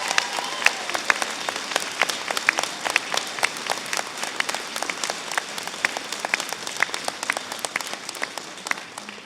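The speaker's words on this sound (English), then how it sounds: "I'd like to show your appreciation by a round of applause for all those people" Audience applause at a ceremony, a steady wash of many hands with crisp individual claps standing out close by, sustained at an even moderate level throughout.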